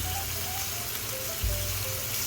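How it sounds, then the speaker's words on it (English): Pork chops searing in a pan for maple-balsamic chops, a steady broadband sizzle that runs unbroken through the clip at moderate loudness, with a low rumble swelling briefly near the end. "See that sear in the back end? That's what you're looking for. So just sear it for 6 minutes on each side"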